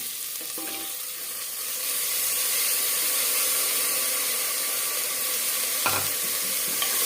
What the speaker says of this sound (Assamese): দালিখিনি দিয়াৰ পিছত অকণমান ভাজিম